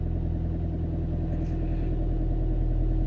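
Ford Transit Connect engine idling while cold, a steady low rumbling drone with an even throb, close and continuous with no voices.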